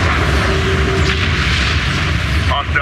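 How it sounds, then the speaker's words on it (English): A missile barrage thunders in Homeworld: Deserts of Kharak, a dense, continuous rumble of loud explosions, with a voice speaking briefly near the end. "Multiple missile signatures detected. Missile barrage in the air."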